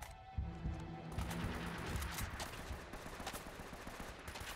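Dense bursts of automatic gunfire and rapid shots rattle through a firefight in the video game Uncharted, loud and continuous with overlapping cracks, and no talking.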